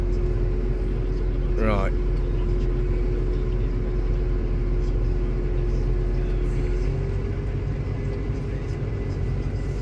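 A Case IH Puma tractor creeps slowly through slurry with a steady, close low engine rumble and drone throughout, while someone speaks briefly over it.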